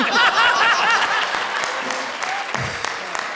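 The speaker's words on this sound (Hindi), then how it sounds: "जोरदार तालियों से स्वागत कीजिए इनका" An audience at a comedy show claps loudly to welcome a contestant, dense applause with a few chuckles that fades into scattered claps, and a voice is heard near the end.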